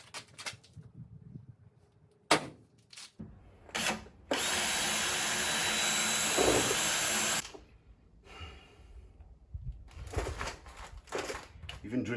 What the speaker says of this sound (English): Even drilling holes is hard work.